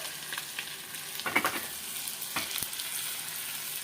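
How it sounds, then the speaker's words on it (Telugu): Ginger and turmeric sizzling in hot tempering oil for buttermilk rasam, a steady bright frying hiss with a few sharper crackles and stirring clinks, close and without speech. "అల్లం కట్ చేసి పెట్టుకున్నాం కదా ఇవి కూడా దీంట్లో వేసేసేయండి"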